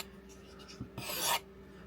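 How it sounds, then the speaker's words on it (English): A single short rasping stroke of a knife across a Work Sharp Guided Field Sharpener, close and clear, comes after a couple of faint taps against a quiet background. "I spent just a few minutes sharpening it up, and boy, it made a huge difference."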